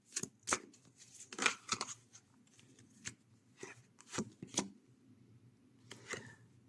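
Cards shuffled and drawn for a tarot-style reading, with crisp irregular riffles and snaps, some in quick clusters and some spaced apart, close and moderately loud with no speech.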